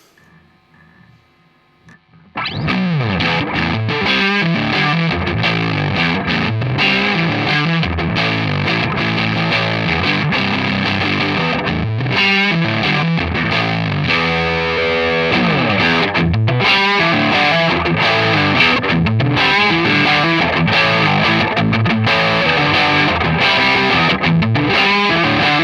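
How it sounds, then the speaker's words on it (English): Electric guitar played through a Digitech Hardwired valve distortion pedal with the gain turned all the way up, a loud, dense, saturated tone of sustained chords and riffs starting after a brief quiet moment. "the valve distortion sounds much more like a distortion. It's got a much more precise sound."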